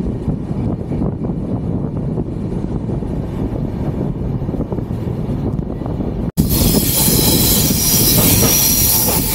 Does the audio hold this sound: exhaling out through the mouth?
no